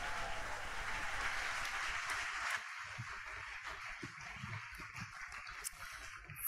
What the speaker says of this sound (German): Wir bitten um einen riesigen, tosenden Applaus.